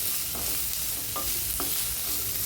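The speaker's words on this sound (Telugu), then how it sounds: "ఇలా మొత్తం కలర్ చేంజ్ అయ్యేంత వరకు ఫ్రై చేసుకోవాలి." Sliced onions with salt frying in a pan for a spinach onion dish, a constant hiss of sizzling oil with a few short scrapes from stirring, close and even, no voices.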